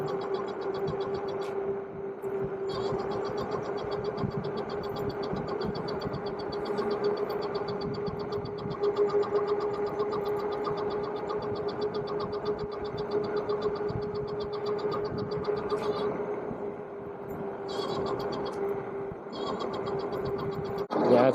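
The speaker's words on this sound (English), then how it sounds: "it's the controller making that noise, not the tires" Steady electric whine from a vehicle's drive controller while cruising, a constant mid-pitched tone holding level over a continuous road rumble for the whole stretch, with no distinct tire roar standing out.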